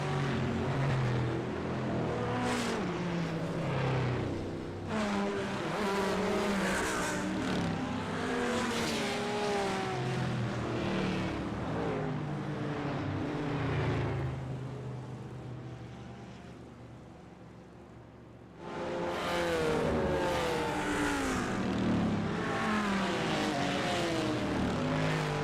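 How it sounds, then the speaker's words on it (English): Ford Mustang and other race car engines roar through a multiclass sim racing game at Circuit de Villeneuve, loud and continuous with shifting revving pitches, dipping quieter briefly before surging back. "Got in a trance there from the old best sounding cars here in the game. Well, at least the Ford Mustang."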